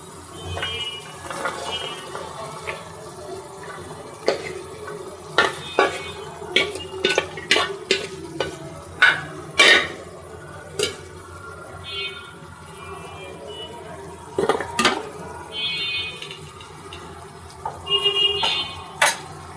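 A spatula stirs taro stolons into a pan of jackfruit seeds and shrimp, with a string of clicking scrapes and clanks against the metal, close by, while faint honks and background noise drift in.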